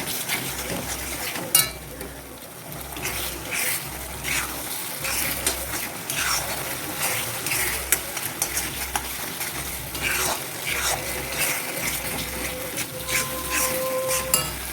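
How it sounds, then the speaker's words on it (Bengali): Ground spice paste sautéed in a pan for a prawn curry: a continuous close sizzle with repeated spoon stirring and scraping, occasional light clinks, and a low rhythmic thrum underneath, with no voices. "দেখো, মশলাটা দিয়ে দিয়েছি, আমি এবার কষিয়ে নেবো।"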